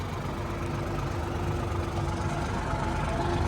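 A tractor engine running while driving toward a canyon between two mountains in Siirt, a steady low rumbling drone that stays loud and constant throughout.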